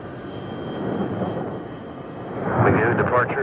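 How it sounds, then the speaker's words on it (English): An F-14 Tomcat jet roars on takeoff, a broad, steady engine rumble that swells louder near the end, partly mixed with radio-style talk. "You're cleared for takeoff."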